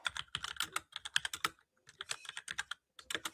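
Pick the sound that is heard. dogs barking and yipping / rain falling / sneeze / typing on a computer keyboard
typing on a computer keyboard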